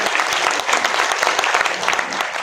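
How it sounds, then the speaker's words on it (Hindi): A crowd at a political party's national convention in Mumbai claps loudly to welcome Om Prakash Rajbhar, a dense, crackling burst of applause with crowd noise mixed in. "जोरदार ताली बजा करके इनका स्वागत करिए"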